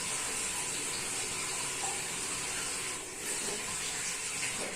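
A kitchen tap runs at full flow in a steady, close rush of water as something is rinsed beneath it during a home cooking challenge, with no talk.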